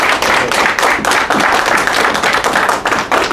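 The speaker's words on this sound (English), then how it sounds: "give our brother a round of applause" A small gathering at a religious holy day service gives a round of applause, brisk, close clapping from several people that stays loud and even throughout with no talking over it.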